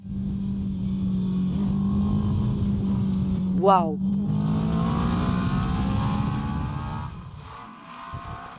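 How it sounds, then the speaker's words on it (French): A Moto Morini motorcycle engine drones loudly and steadily, then revs in a quick rising roar before settling back to a throaty hum, with a rider's excited exclamation partway through. "J'étais déjà surexcitée avec cette moto. Écoutez son rugissement."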